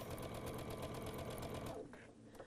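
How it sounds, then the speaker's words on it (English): A sewing machine stitches quilt blocks in a steady, rapid, close-up whir with a rhythmic needle pulse, then slows and stops near the end, with no talk. "take them to the machine to stitch"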